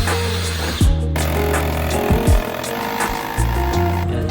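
A power tool cuts out the ribs of a van's body during a van build, loud and close, with a droning motor that revs and drops in pitch several times between short pauses.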